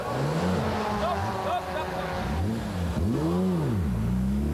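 A race car at the 1997 Nürburgring 24 Hours pulls out of the pits and accelerates, engine notes swooping up and down through gear changes as other cars pass nearby, with a commentator talking over it.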